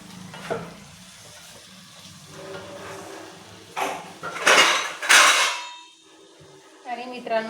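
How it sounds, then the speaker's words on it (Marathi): Metal clanks of a lid set onto a pot of mango vegetable curry on the stove, a few sharp clatters around 4–5 seconds over quiet kitchen background with a faint sizzle. "याला आता 10 ते 15 मिनिटं कुक करण्यासाठी मी झाकण ठेवते"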